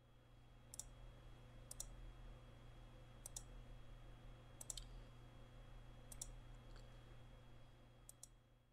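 Quiet computer mouse clicks while working in the Desmos graphing calculator, about a dozen sharp ticks in single and double bursts spread across the stretch over a low steady hum, with no talking.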